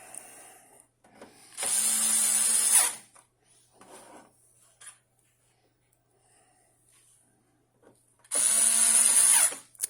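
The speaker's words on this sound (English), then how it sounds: "And just put in the last 2 screws." An electric screwdriver drives screws into a DVR hard drive in two short, loud whirring bursts separated by quiet handling clicks and taps.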